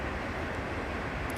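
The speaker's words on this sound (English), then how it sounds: "There's a train going on." Distant train passing behind trees outdoors, a broad steady rumbling roar at low, even level with no distinct clacks, heard alone without talk.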